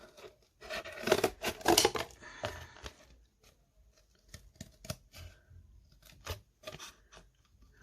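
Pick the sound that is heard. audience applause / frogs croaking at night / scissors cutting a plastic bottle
scissors cutting a plastic bottle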